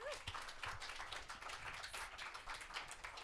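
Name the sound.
audience applause at a rally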